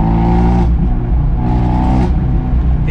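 Abarth 124 with a sport catalytic converter revving hard, the exhaust note rising and falling in two surges with a slightly raspy edge, loud and close with no voices.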